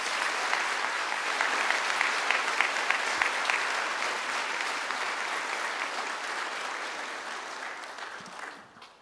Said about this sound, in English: If you could go ahead and give your applause and congratulations